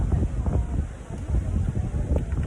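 Strong outdoor wind buffets the microphone in uneven low rumbling gusts that swell and ease across the moment, with a faint voice underneath.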